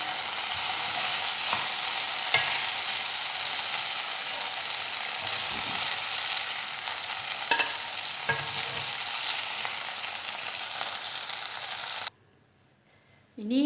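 Chicken pieces browning in butter in a pan give a loud, steady sizzle and crackle with a few scrapes, running without a break for about twelve seconds and then cutting off to near silence at the end.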